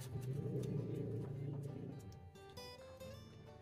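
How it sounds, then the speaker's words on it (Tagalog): Vehicle noise rumbles in the background, a low engine drone that is strongest at first and then fades away. Faint scattered tones and clicks remain near the end. "pasensya na po sa ingay ng sasakyan"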